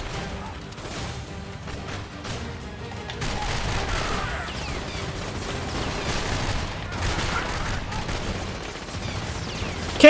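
Rapid bursts of gunfire from the video game The Darkness run almost nonstop, dense and loud, with players talking over parts of it.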